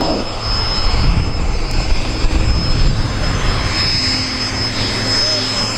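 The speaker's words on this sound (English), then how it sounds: "we look at the aircraft coming in from the north right now" Military jet aircraft, an RAAF Hawk 127 trainer, at an airshow, a loud continuous engine roar that holds steady throughout, with a commentator's voice underneath.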